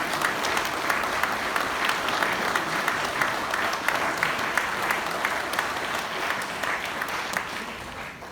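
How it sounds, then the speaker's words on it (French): A crowd applauds steadily and loudly at the official presentation of the local election list "Ensemble pour Agir, l'Humain d'abord !", welcoming its seven candidates with dense, continuous clapping that holds evenly throughout. "je vous demande de les applaudir chaleureusement"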